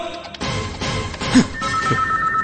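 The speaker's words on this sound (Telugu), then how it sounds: "ఫోన్ వచ్చింది" A telephone rings loudly with a repeated electronic ring tone, sounding close and continuous throughout.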